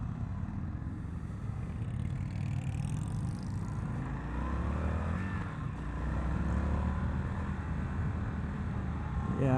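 A 2022 Indian FTR R Carbon motorcycle ridden at speed, its engine a steady rumbling drone under strong wind rush, rising slightly as it pulls hard in second gear.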